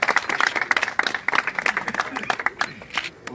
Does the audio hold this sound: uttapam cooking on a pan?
no